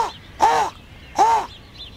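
A raven in the city gives two loud, harsh croaking caws about three-quarters of a second apart, close and clear, with faint calls from other birds in the distance.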